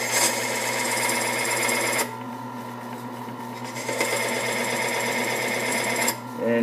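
A combing tool cuts combs into a bagpipe part, giving a loud, steady mechanical buzz that drops in level twice, then briefly changes tone near the end, with no speech.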